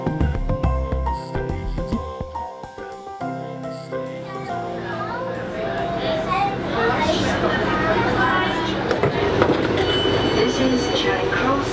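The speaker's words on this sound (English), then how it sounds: "we're starting our day slightly differently by getting the subway to Glasgow Central" A Glasgow subway train rumbles and clatters along the track, with squealing wheels and a rising roar as it gathers speed, while voices are faintly present.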